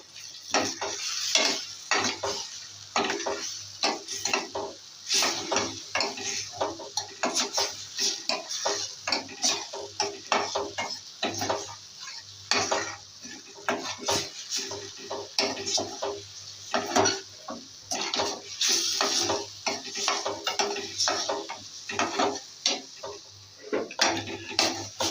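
A spoon scrapes and knocks against a pan as a potato snack with green chilies is stirred, with rhythmic, close metallic clatter over a soft sizzle of frying.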